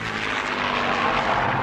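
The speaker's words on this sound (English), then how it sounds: "It's one of those flying contraptions. I think it's called an aeroplane." A propeller aeroplane drones overhead in a 1988 Wind in the Willows cartoon, a loud, continuous engine roar that stays steady throughout with no talking.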